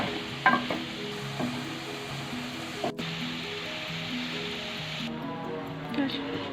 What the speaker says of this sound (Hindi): अब हम इसमें ये जो प्याज काट के रखे हुए थे वो इसमें डाल देते हैं ताकि नरम हो जाएंगे।